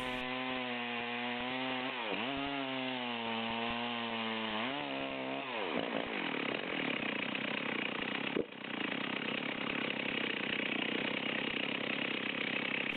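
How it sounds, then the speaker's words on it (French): A chainsaw revs in a rising and falling drone as it cuts into a log, then settles into a steady rough cutting roar, with a brief knock partway through; no voices. "On pose la tronçon sur le buste et on rattaque le trait de scie."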